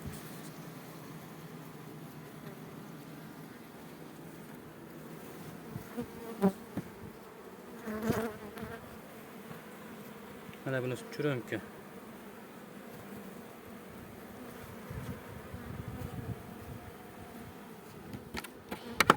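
Honeybees buzzing steadily around beehives in an apiary, a continuous low drone close by, with someone speaking briefly over it and a few handling knocks and clicks.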